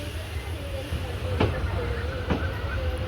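A train pulling out of Kolhapur station, heard from on board as a steady low rumble with a couple of sharp metallic clanks and a faint hiss, while a voice speaks over it.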